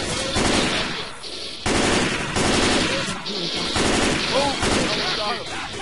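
Assault rifle fire in the video game Left 4 Dead 2 comes in several loud, close bursts of rapid shots separated by short gaps, with players talking faintly in between.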